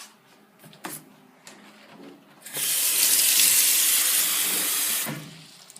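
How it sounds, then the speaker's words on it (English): Water runs from a tap into a bowl, a loud steady gush lasting a few seconds after some faint clinks, then cutting off abruptly. "First you'll need to fill the bowl full of water."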